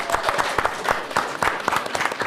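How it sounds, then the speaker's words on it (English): An audience at a school board of education meeting claps for a fourth-grade student, a loose burst of hand claps at moderate distance with uneven rhythm throughout. "Can we clap it up for her, please?"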